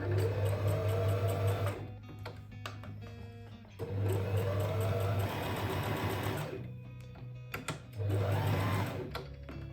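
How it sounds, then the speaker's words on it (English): A sewing machine runs in three long bursts, stitching a seam on a leather trench coat, with short pauses between runs; close, steady and loud with a whirring motor drone. "After that, I make a stitch on the pretty side for better look and to secure seam"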